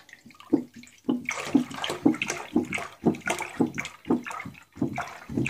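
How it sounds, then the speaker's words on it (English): Milk poured into a pot while making homemade ricotta-style cheese, a steady liquid splashing stream with rhythmic gurgling pulses, close and fairly loud, with no talk over it. "we're now adding the milk to the pot."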